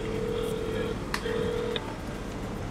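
Phone keypad tones sound as a call is dialed, two short steady beeps with a faint click between them over low background noise.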